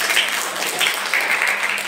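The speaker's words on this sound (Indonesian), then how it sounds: "semua tepuk tangan ya" Brief audience applause from students at a leadership and management training session, a short burst of dense clapping at moderate loudness that runs evenly with no pause.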